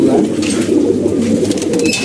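Pigeons coo continuously in a loft holding racing and nol pigeons. The low cooing is dense and close, and the birds rustle now and then.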